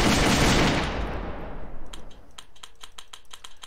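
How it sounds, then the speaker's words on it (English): Shooting in a first-person shooter video game: a loud burst of gunfire that decays into a string of rapid, evenly spaced sharp clicks, close and with no voices. "we hear the click sound, but the ammo was not going down when we were shooting at nothing"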